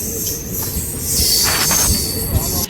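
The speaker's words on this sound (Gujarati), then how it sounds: "હવે ટ્રેન ઊભી રહી છે" Crowded train at a station during Shivratri travel to Junagadh, drawing to a halt with a steady rumble, high wheel squeal and brake hiss, while a faint voice murmurs nearby.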